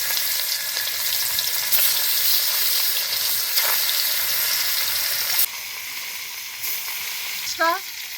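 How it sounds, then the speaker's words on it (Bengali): Snakehead fish sizzle loudly in hot oil in a pan, a dense, continuous frying hiss that eases slightly partway through and then carries on steadily. "তেলটা গরম হয়ে গেছে মাছগুলো ছেড়ে দেবো"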